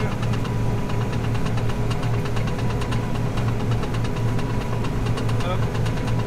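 A John Deere S690 combine harvester runs steadily while unloading its grain hopper during a winter barley harvest, giving a loud, constant engine drone with a rhythmic mechanical knocking throughout.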